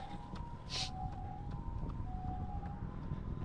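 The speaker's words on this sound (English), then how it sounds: "the ambulance is coming" An ambulance siren wails with steady alternating tones, fairly faint and distant, heard from a roadside during an easy run in hot weather, over a low hum of traffic.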